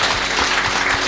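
Applause for Mateja Žlogar at a lecture event, a steady dense patter of clapping from a crowd, fairly loud throughout this short stretch.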